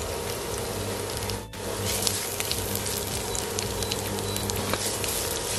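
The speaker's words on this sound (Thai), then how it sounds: "ผัดชัยโป๊ของเรา" Salted turnip stir-frying with garlic in a hot pan, a dense, continuous sizzle and crackle with a low steady hum beneath, one brief dip as the food is tossed, heard alone at close range.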